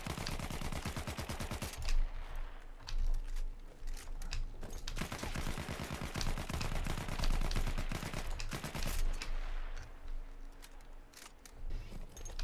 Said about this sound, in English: The first weapon available for this class is the MP-18 Trench.